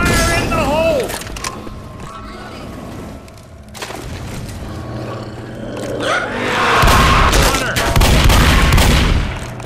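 A thrown grenade goes off in Left 4 Dead co-op on the Dead Air map, a loud, low rumbling blast mixed with gunfire, zombie roars and game voices shouting.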